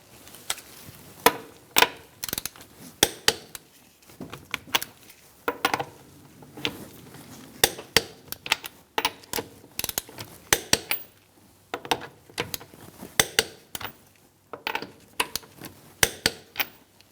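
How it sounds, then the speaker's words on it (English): Ratcheting torque wrench clicks in short bursts while tightening the lug nuts of a 2004-2009 Mazda 3 front wheel to 85 foot-pounds in a star pattern, near and crisp, with brief pauses between nuts. "We're going to torque our wheel to 85 foot-pounds in a star-like pattern."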